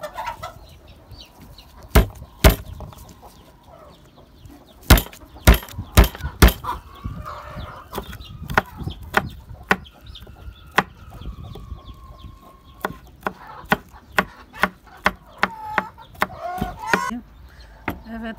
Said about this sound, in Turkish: Şimdi de sarımsaklarımızı doğrayalım.